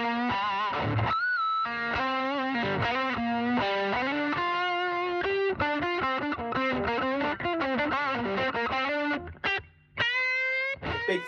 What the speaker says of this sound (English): as it gets up, you get into like classic 70s rock distortion, and all the way up, it gets into that big fuzz that we all know and love